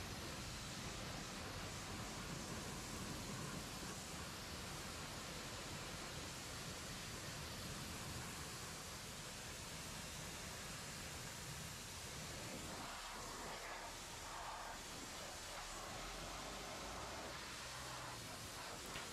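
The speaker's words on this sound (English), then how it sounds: "you can see all the nastiness that has been removed from the wheel and running free as we rinse." Water sprays steadily while rinsing wheel cleaner off a car wheel, a constant broad hissing rush that continues unbroken for the whole stretch, with a slight change in texture near the end.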